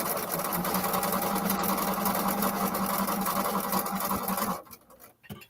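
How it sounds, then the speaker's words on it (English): Sewing machine running steadily while chain piecing fabric, a close, continuous mechanical whir and patter that stops abruptly near the end. "But I have a little chain piecing going."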